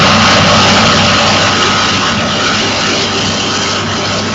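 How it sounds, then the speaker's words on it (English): A ZR-1 Corvette race car engine roars loudly and continuously on track, a dense close-up drone that falters and thins slightly toward the end as it cuts out a little. "the engine doesn't sound quite right. It almost sounds like it's cutting out just a little bit"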